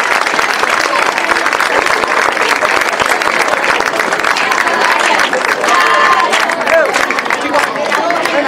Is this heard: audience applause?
yes